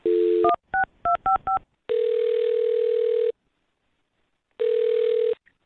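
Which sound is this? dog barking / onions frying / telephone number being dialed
telephone number being dialed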